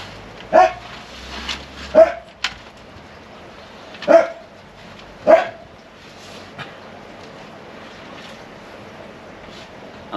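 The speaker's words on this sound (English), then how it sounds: "That's my dog barking" An old 14-year-old dog barks four times in slow, irregular succession, each bark a clear, moderately near single woof over a quiet outdoor evening background in a garden, with a softer yip between.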